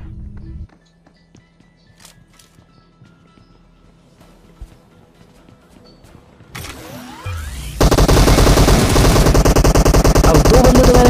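Sparse distant shots at first, then a sudden sustained burst of loud, continuous automatic gunfire from a video game that keeps rattling to the end.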